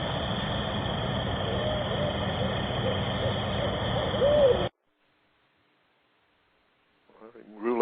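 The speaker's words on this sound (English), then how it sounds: "I know I could hear a barred owl in response to the call." A recorded barred owl call plays loud and close for several seconds, then cuts off into silence before a voice begins to speak.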